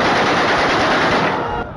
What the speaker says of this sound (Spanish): informa de más tiroteos en las calles de Trípoli